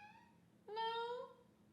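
A single drawn-out meow with a rising, then falling tone, heard faintly against a quiet room background.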